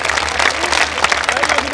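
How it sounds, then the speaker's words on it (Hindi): A crowd at a Jantantra Yatra gathering in Jodhpur, Rajasthan, breaks into dense, sustained applause, loud and close throughout the brief moment. "हम एक बार तालियों से इनका स्वागत करें सभी मिलकर के।"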